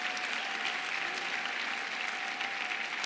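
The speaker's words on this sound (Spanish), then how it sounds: "¿Podrás darle un aplauso al Rey de Reyes?" A congregation at a Sunday church service applauds in steady, even clapping that holds for the whole stretch. A faint steady tone runs underneath.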